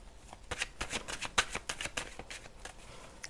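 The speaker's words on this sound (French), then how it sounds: "on va aller tirer 9 cartes" A deck of playing cards is shuffled for a tarot-style reading, a close, crisp run of rapid riffling flutters and snaps lasting a few seconds with no talk.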